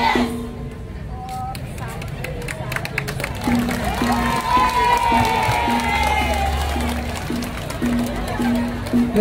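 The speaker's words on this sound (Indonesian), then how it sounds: "tepuk tangan yang meriah untuk Banjar Marga Jati." A crowd at a mass Balinese Rejang dance performance claps and cheers, a broad wash of applause and shouts building under an amplified announcer's voice speaking over it.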